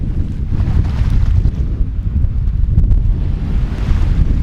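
Strong wind roars across a beach beside a fire, buffeting the microphone with a loud, continuous low rumble that surges and eases, with no voices heard.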